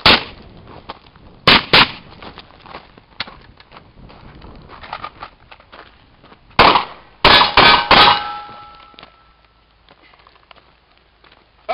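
Rifle fired through a silencer, several magazines of rounds: a few sharp suppressed shots and clangs stand out over a rattling, busy background, with long stretches of quieter handling noise between them.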